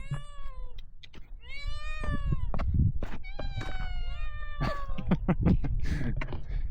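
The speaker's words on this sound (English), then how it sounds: "So many cats." Several young cats meow repeatedly, overlapping one another with rising and falling cries, close by over a steady outdoor background at Petra, Jordan.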